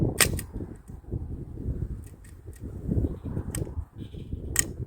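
Sig Sauer MPX .177 CO2 air rifle fired outdoors in cold weather, a few sharp, clean cracks spaced apart, the last one loudest, over a steady low rumble of wind or background noise.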